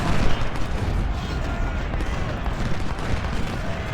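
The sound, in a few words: skirmishers' musket fire in video game Ultimate General: Civil War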